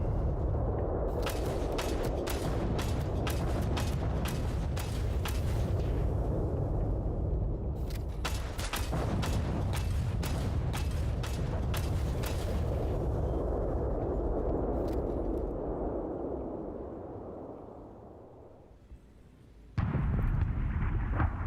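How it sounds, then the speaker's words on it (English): Ship blowing up in an extraction video game: a rumbling explosion with a rapid series of sharp blasts and cracks, a long roar fading out, then a sudden loud burst at the end. "I think they blew up another ship."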